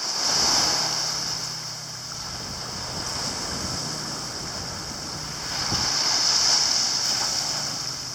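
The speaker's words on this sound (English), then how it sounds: "You can hear the waves, but you can't see them." Steady wash of surf with a broad hiss that swells and eases, distant waves rolling in under a light wind, heard from a high point on Cuttyhunk Island, Massachusetts, no voices.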